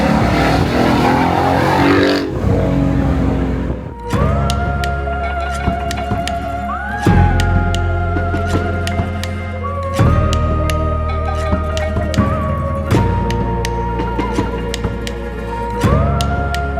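A Ford Mustang 5.0 with its Coyote engine gives a loud, throaty roar that starts thick and rough, then settles into steady, droning tones with occasional shifts in pitch, close and continuous throughout.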